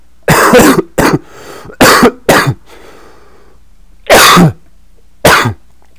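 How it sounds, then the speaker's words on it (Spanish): Several sharp, loud coughs in irregular bursts, some in quick pairs, separated by brief quiet gaps. "la tos es muy molesta y persistente"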